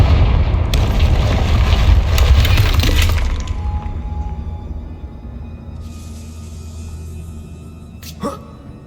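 A Confringo explosion spell in Hogwarts Legacy blasts with a loud booming rumble and shattering debris for a few seconds, then decays into a quieter lingering tail with a brief crack near the end.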